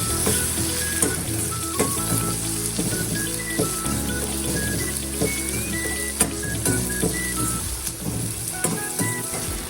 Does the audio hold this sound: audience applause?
no